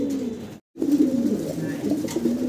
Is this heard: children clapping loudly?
no